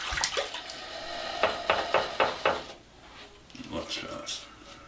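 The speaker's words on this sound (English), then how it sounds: "rinse off one more time" Water runs and splashes during a shave rinse, with a series of short clattering bursts in the first half and softer splashing afterward, close by.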